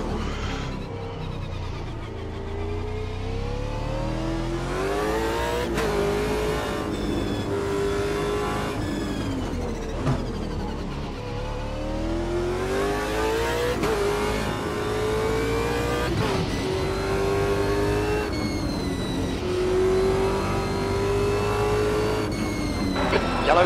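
Simulated race car engine in the sim racing game Automobilista 2, revving hard through repeated upshifts and climbing whines, loud and continuous; voices talk faintly beneath the engine.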